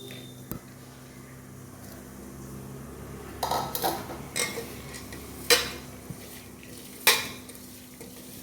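Washed beaten rice (avalakki) goes into a pot and is stirred with a metal spoon, making scraping and clinking sounds. A few sharp knocks against the pot stand out over quiet background hiss.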